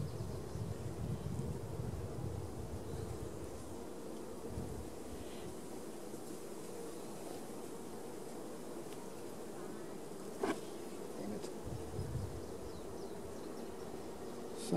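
Honey bees hum in a dense, steady drone around an opened hive, close and continuous, with occasional clicks of handling and no talking.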